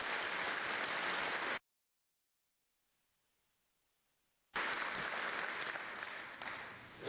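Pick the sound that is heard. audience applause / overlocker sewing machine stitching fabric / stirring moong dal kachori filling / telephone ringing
audience applause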